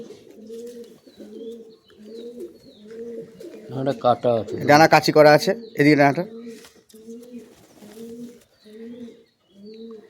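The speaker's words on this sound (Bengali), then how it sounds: "দাদার কাছে সবই গিরিবাজ পায়রা দু একটা ম্যাড্রাজ আছে" Giribaz pigeons coo in a steady, repeating rhythm close by; someone speaks loudly over them in the middle before the soft cooing carries on alone.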